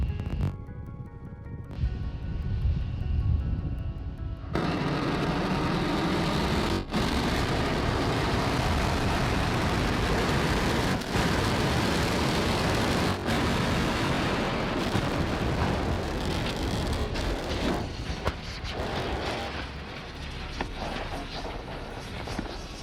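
A SpaceX rocket crashes on a landing test after coming in too fast: a loud, sustained broadband roar rumbles on without pause, with a few sharp bursts and crackles over the deep, steady noise.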